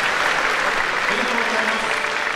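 Spectators applaud during a medal presentation at the 2023 Takamatsunomiya Kinen horse race award ceremony, with continuous, dense, loud clapping from a large outdoor crowd.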